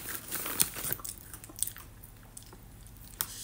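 Crisp bites and chewing of mixed crispy vegetable and fruit chips, including potato and zucchini, heard as quiet, close crunches scattered irregularly over a few seconds.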